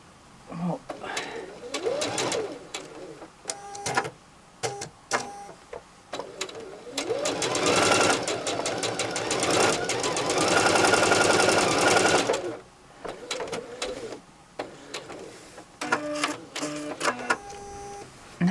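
Sewing machine stitching quilt pieces together for a sofa throw quilt, running in short bursts at first, then a long steady fast run in the middle before stopping into a few more brief bursts, close and loud.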